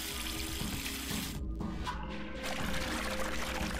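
Water pours steadily from a tap in the puzzle game Zero Time Dilemma, a continuous rushing splash that briefly thins midway before resuming at a constant, moderately quiet level.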